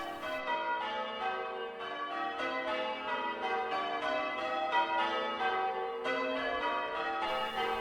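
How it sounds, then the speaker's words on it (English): Six church bells ring the Grandsire method with the tenor behind. The peal is a steady, continuous stream of overlapping bright strikes, full and resonant, with no voices. "Penn is to ring the tenor behind this 6-bell glorious sound."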